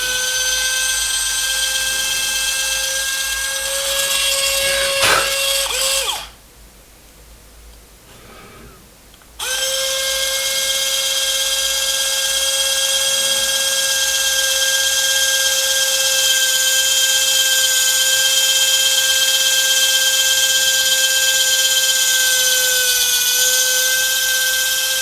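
A high-pitched power drill whines steadily while drilling a hole in a small scale-model cannon shell, cutting out briefly for a few seconds before starting up again and running continuously.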